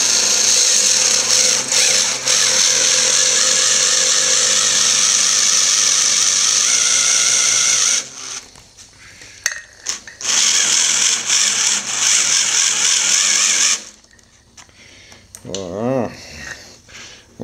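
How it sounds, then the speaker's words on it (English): An electric drill fitted with a 5/16 bit whines steadily at high speed for several seconds, then starts and stops in shorter bursts with pauses between, loud and close, with a brief rising tone near the end. "I'm going to stick the drill, this little dude right here, with a 5/16 down in there, and we're going to buzz it"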